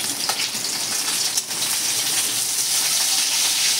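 Hilsa fish frying in oil gives off a dense, steady sizzling crackle that fills the whole stretch, close and even with small pops throughout.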